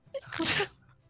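A single sharp sneeze close by, a brief inhale followed by a loud burst, alone in a quiet moment during a tabletop role-playing game session.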